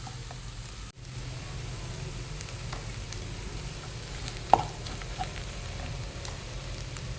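Potato omelette frying in a pan without oil gives a steady, soft, close sizzle with faint crackles and one small clink midway. No one talks.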